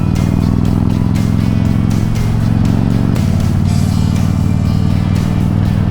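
A vehicle travels along the Omeo Highway through the countryside on gentle curves, with a loud, steady engine drone and a change in pitch partway through, all heard close with no talking.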